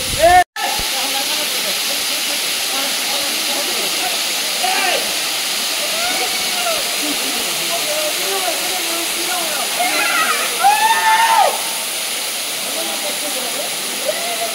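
Steady broadband roar of rushing water at Moola Kona waterfall, a dense hiss filling the whole clip; faint voices and scattered shrill calls rise briefly above the continuous wash.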